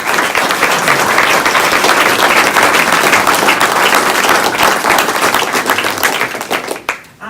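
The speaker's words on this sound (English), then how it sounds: "Let's give them a big round of applause." An audience claps in loud, dense, sustained applause at an airport ribbon cutting ceremony, which continues for several seconds before tapering off into a few scattered claps.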